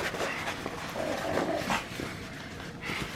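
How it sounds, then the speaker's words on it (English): A dog growls low and steadily in the background, with faint whimpering rises mixed in, continuing throughout. "you're hearing Mickey growling on the background"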